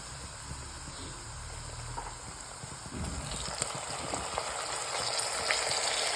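Homemade mutton masala and ginger-garlic paste fry in hot oil, a steady close sizzle and crackle that grows slightly louder and busier partway through, with no talking.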